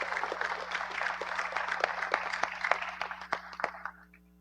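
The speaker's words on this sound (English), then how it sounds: "Please give them a round of applause." Audience applause for children presenting an acrostic at the launch of Guyana's national population and housing census, steady clapping through the room with sharp individual claps standing out as it thins toward the end.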